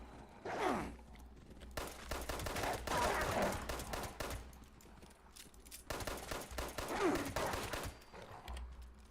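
Gunfire in the video game Fallout 76, with shotguns in use: loud bursts of rapid shots come in two clusters with short pauses between them, and brief scrapes and breaths in the gaps.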